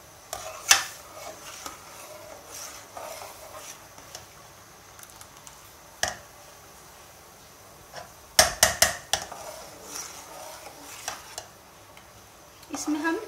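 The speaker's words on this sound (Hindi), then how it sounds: "इसमें हम लगातार चम्मच चलाते रहेंगे ताकि ये नीचे ना लगे।" Milk cream cooked down over a very low flame into desi ghee, a spoon stirring and clinking against the pot in irregular bursts of sharp taps and scrapes between quieter stretches, close by.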